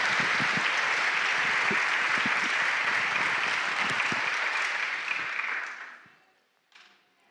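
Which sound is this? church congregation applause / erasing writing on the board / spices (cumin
church congregation applause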